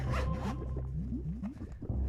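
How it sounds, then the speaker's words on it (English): A zipper being opened up close, a quick run of raspy, evenly spaced teeth clicks lasting about two seconds. "That's both zippers. That won't open that way."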